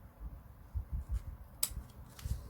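Scissors snipping through paper or card for a round scrapbook box, a few quiet cuts and rustles with one sharper snip, close and faint, no talking.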